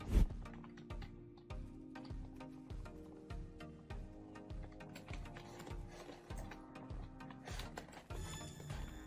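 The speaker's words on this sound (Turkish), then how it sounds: "Bu arada mouse, klavye sesi ne varsa geliyordur size kusura bakmayın." Rapid mouse and keyboard clicks from a PC session of the online shooter Zula, with ticking, clattering strokes repeating steadily over game sound throughout.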